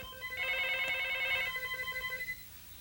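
A telephone at a remote farm rings with a steady repeating electronic trill, moderately loud and alone in a quiet room, the pulses continuing for a couple of seconds before stopping.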